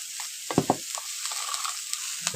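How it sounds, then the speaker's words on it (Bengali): Mixed vegetables sautéed with spices in a pan for a hilsa fish head curry: a constant bright sizzle, with a few sharp spatula knocks and scrapes near the start and occasional stirring strokes after, close by and without talk. "এভাবে মশলাগুলোর সাথে সবজিগুলো ভালোভাবে কষিয়ে নিচ্ছি"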